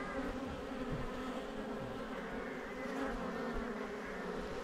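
Honey bees swarm around an opened hive during a spring inspection, a dense continuous buzzing drone that stays close and steady throughout.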